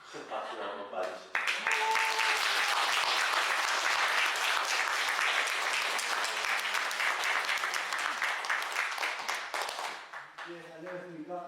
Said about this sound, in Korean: 큰 박수 한번 받으시죠.